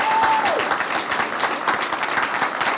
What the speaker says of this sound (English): Absolutely worth dual applause, right?